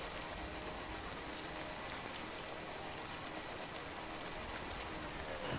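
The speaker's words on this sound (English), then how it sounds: "Well, there's a spot of rain." Steady rain falls in the video game Death Stranding, a faint, even hiss of drops spread across the whole stretch with no voices over it.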